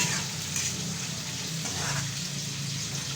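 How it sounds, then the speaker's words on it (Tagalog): Garlic and onion sautéing in a pan for sarciadong tilapia, a continuous soft sizzle with faint scraping, close and steady, with no talking. "mag-start na kami ng gisa mga kabayan"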